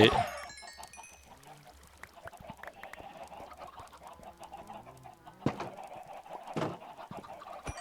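Several Minecraft chickens cluck and squawk in short bursts, with a louder cackle near the start and more agitated clucking toward the end.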